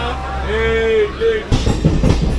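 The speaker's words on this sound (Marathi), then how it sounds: "आपली गाडी निघाली आहे पुणे रेल्वे स्टेशनवरून" A train rumbles and rolls forward with a low, steady drone and a high tonal squeal, then clattering rail noise takes over as it picks up.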